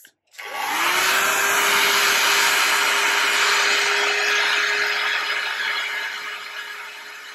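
Hair dryer blowing steadily on an alcohol ink painting on an apron, a loud close whoosh with a constant whine that starts abruptly and tapers slightly toward the end, with no talk.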